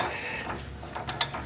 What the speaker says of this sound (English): let's see if I can get this with my ratchet